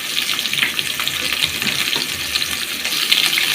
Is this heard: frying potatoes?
yes